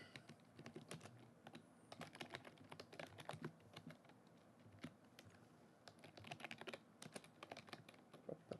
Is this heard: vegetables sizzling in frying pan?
no